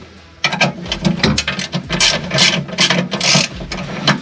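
A ratchet loosens a bolt on a Nissan 350Z with a run of rapid, close clicking bursts and grinding turns that come in uneven strokes, loud and with no talking.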